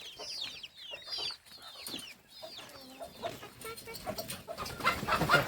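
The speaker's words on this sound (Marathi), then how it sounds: "आता कोंबड्या कशा खातील बघा." Village hens cluck and chirp close by while being fed spinach greens: repeated short, rising calls in quick bursts, then shuffling and scratching noises.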